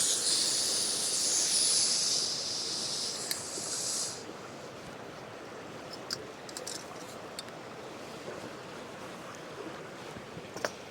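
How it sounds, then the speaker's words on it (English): Steady hiss of a small camp stove heating water outdoors, continuous and moderately close, louder for the first four seconds and then settling to a softer even roar with a few faint clicks. "Heat some water up using my little ration heater here. Or my ration heater, my little camp stove."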